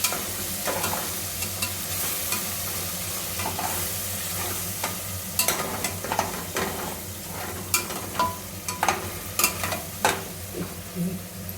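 A spoon stirs turmeric into a sizzling tomato bath mixture in a pan, giving steady frying hiss with repeated scraping clicks and knocks that grow busier toward the end, close and moderately loud.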